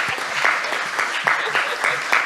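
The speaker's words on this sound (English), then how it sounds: "So if you all would join me in a round of applause." A panel discussion audience applauds the panelists with steady, dense clapping that fills the whole stretch, fairly close and even in level, with no one speaking over it.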